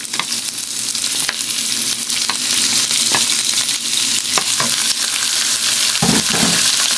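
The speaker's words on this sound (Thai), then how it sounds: "จากนั้นก็ใส่หมึกเลยค่ะ" Squid stir-fried in a hot pan, a loud steady sizzle with the scrape and clatter of a spatula stirring throughout.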